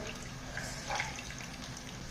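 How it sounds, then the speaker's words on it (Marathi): Water squeezed by hand out of soaked soya chunks over a bowl, a soft steady trickle and splash running through the clip, faint and close. "तर याला या ठिकाणी यातून पाणी कंप्लीट असं पिळून काढायचं आहे"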